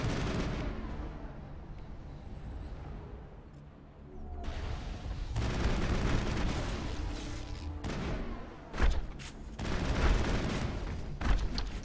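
Sniper rifle fire in the Mass Effect video game comes as heavy booming reports amid dense rumbling battle noise, with a few sharp shots standing out near the end.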